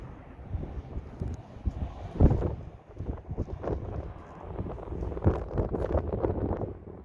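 Gusty wind buffets the microphone with low rumbling roars that rise and fall, steady and loud throughout.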